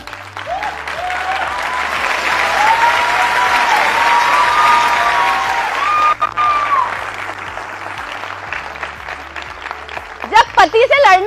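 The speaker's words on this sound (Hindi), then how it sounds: "हमारी ताली कैसे बज रही है?" A seminar audience claps loudly and steadily for several seconds, with a voice speaking over the applause throughout and a few sharper claps near the end.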